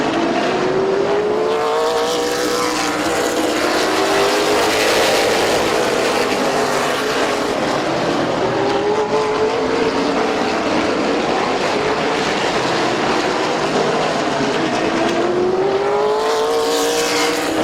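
Race cars lap Midvale Speedway, a short oval, with engines rising and falling as they pass in waves; a continuous dense roar carries throughout, with repeated pitch sweeps as cars go by near and far.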